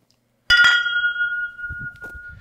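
A whiskey glass is struck once and gives a bright, clear ding that rings on and slowly fades, while low murmuring voices come in toward the end.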